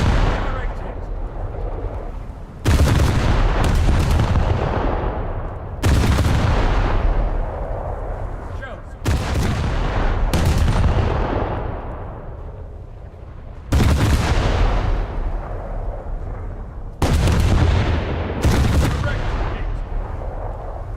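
Heavy warship guns firing in a naval video game with the USS Nevada, six booming salvos spaced a few seconds apart, each a loud sharp blast trailing off into a long rumbling decay.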